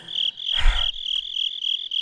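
Loud, steady insect chirping, a continuous high trill like crickets near a mountain cave in a video game, with one brief low thump in the middle.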